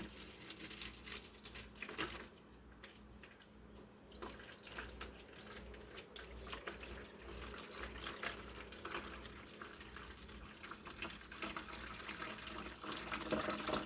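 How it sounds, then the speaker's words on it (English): Cold water pours and trickles steadily into a funnel, a continuous splashing flow with faint bumps and handling noises, no voices. "I'm going to finish pouring my cold water in here"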